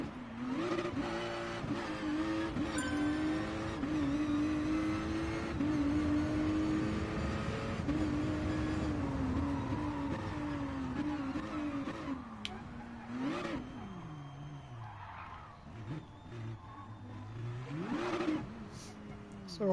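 Cars in a Gran Turismo Sport quarter-mile drag race against an Aventador, with a steady loud engine drone that climbs through gear shifts and ends in a few sharp revving surges. A voice can be heard under the engine noise.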